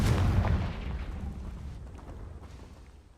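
A Confringo fire spell blast from the video game Hogwarts Legacy, a loud booming burst at the start that rumbles and decays over a few seconds, with no talk.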